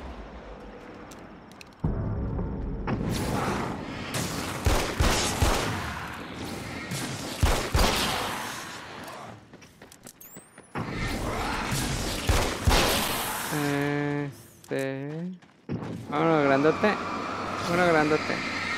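Repeated gunfire from enemy fights in Alan Wake's American Nightmare, arcade mode in a trailer park map, with loud bursts and volleys of shots mixed with game effects, engine noise and someone talking over the action.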